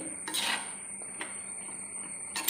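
Spoon scraping and clinking against a pot while dried fish and taro stem with salt are stirred for a Kerala thoran, a few soft scrapes and metallic taps, fairly quiet.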